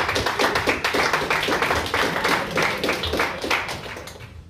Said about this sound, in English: Give him a hand of applause, Gopi.